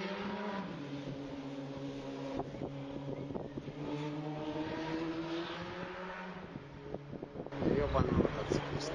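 A motorcycle passes along a town street on a sunny March walk: a fairly close engine drone with wavering, rising and falling pitch over steady wind noise, then a sharper burst of noise near the end.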